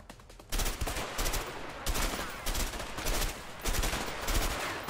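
Gunfire in an online shooter video game: dense, continuous automatic bursts and rapid shots, loud and close, with brief gaps between volleys.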